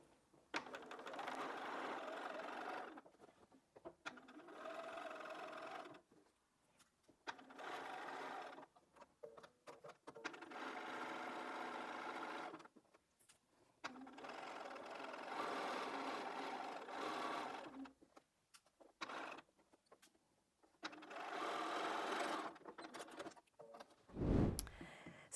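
A sewing machine stitches fabric for a drawstring bag in repeated bursts of fast, even mechanical whirring, each run stopping briefly before starting again, quiet and close, with light clicks between runs.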